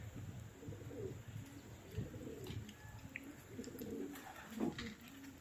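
Racing pigeons coo softly at an open loft, with several rolling coo phrases repeating in a steady rhythm against quiet outdoor background noise.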